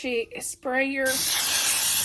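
A voice speaks briefly, then a steady hiss of cooking spray onto a pan starts and continues, a close-up aerosol burst.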